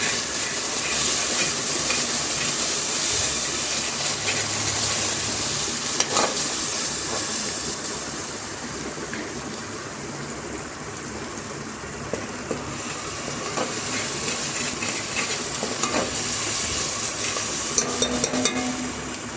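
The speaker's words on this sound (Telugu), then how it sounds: "పసుపు యాడ్ చేసుకొని ఇంకొక 2 minutes మంచిగా వేయించాలి" Ginger-garlic-onion paste with turmeric frying for mutton curry, a loud continuous sizzle close by with occasional scrapes and clicks of stirring.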